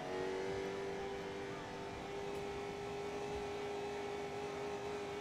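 Race car engine in Forza Motorsport 2 entering the pit lane at Road Atlanta, a steady sustained drone with a constant tone, moderately loud and unbroken throughout with no talk.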